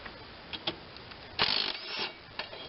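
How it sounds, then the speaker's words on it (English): An electric half-inch drive impact wrench removes a 5/8-inch blade bolt from a Toro self-propelled mower. A few faint taps lead into one short, loud rattling burst of hammering, then a softer tail and a final click. "I've got a fairly large half-inch drive impact, electric impact."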